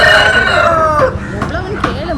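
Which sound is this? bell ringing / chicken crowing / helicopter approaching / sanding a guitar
chicken crowing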